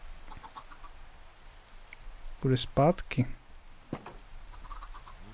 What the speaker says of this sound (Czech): Jedno kuře uteklo.